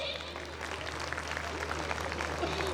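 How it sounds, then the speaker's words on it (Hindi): An audience applauds at a school annual function, with a dense, sustained patter of clapping from many hands, steady for the whole stretch with a faint voice and low hum underneath. "अब धरती पर आए गए हैं तो आप सब तालियां भी बजा दीजिए।"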